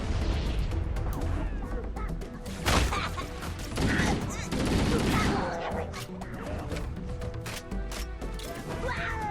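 Gunfire in the video game Halo: Combat Evolved, with dense, continuous weapon fire and sharp blasts and crashes throughout, loud and close, mixed with other game effects.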